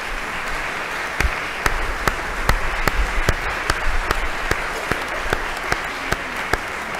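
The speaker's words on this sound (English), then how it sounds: "Let's give them a hand of applause." Congregation in the Cathedral of the Nativity of the Blessed Virgin Mary applauding its music ministry and choir: a sustained wash of clapping, with a few sharp claps standing out in a fairly regular beat throughout.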